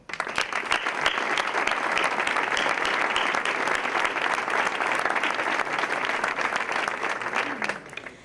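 Warm audience applause at the presentation of the Spanish Doma Vaquera riding championship in a village customs museum, dense sustained clapping for about eight seconds before fading out at the end.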